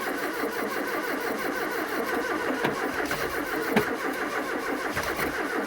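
Starter cranking a classic Ford hot hatch left outdoors for 25 years, with the carburettor open and no throttle, turning over steadily and loudly at close range, with a couple of sharp catches as it stumbles, no talking.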